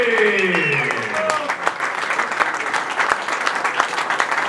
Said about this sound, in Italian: Applauso più forte, lo dico sempre